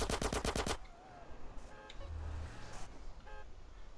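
Rapid automatic gunfire in Grand Theft Auto San Andreas, a loud close burst of about seven shots, followed by quieter game ambience with traffic, engine rumble and a brief horn.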